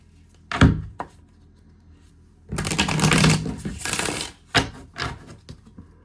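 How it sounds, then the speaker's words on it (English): Tarot cards shuffled by hand: a couple of short riffling bursts, then a longer continuous shuffle and a few more quick riffles, close and clear with no talking. "Let me shuffle."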